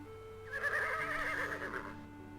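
A horse named Nightmare whinnies in King's Quest VI, a single loud, wavering neigh that rises and falls for about a second and a half against a quiet backdrop.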